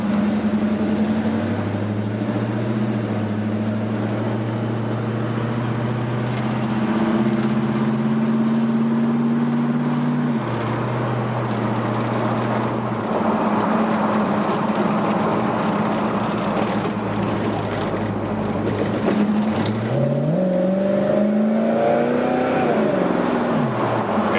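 A restored 1971 Chevrolet Chevelle SS tribute with a 350 V8 runs loud and close, holding a steady drone, then revving up and down in several rising and falling sweeps, with no talking.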